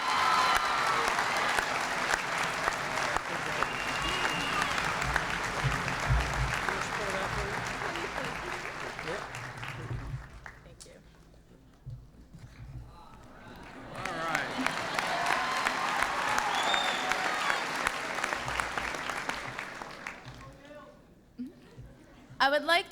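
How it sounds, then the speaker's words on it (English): A large audience applauds at a high school event, sustained clapping fading, pausing, then swelling again into a second long round of applause. "let's give a great round of applause to someone who's been a butt kicker all year, Jennifer Crea."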